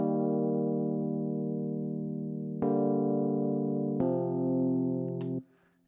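Chord progression from a song played on a synth: three sustained harmonic chords, the first held longest and the next two struck in turn, clean and alone with no talk.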